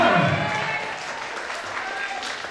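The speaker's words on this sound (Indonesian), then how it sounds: "Tepuk tangan kalian semua." Audience applause in a lecture room at a work-culture talk by a company CEO, a dense, steady clapping wash lasting the whole stretch and slowly easing off, with a bit of voice mixed in at the start.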